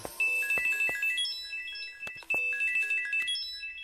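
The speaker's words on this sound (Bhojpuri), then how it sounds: "अरे वाह, भौजी के फोन।" An incoming-call ringtone rings from a phone nearby, a bright electronic melody of repeated tonal phrases with sharp note onsets, loud and clear with no speech over it.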